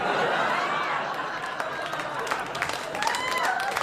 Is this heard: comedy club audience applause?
yes